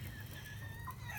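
Hens cluck faintly in a backyard flock, soft low murmuring with a brief higher call near the end, quiet and close.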